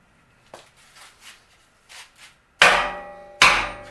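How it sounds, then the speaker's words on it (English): Sledgehammer blows land on a weak weld on a Hardbody truck's front cross member: two loud, sharp metallic strikes follow several faint taps and knocks. "I know I've got a sledgehammer sitting around here somewhere."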